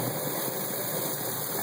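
A motorized chicken plucker and scalder whirls with a steady, close mechanical hum and a faint rattle, running continuously with no one speaking.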